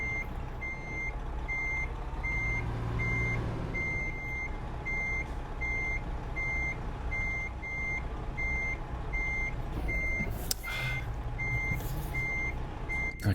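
A Kenworth truck reversing in American Truck Simulator, its backup alarm beeping in a steady regular rhythm over a low diesel drone, with a brief air hiss near the end.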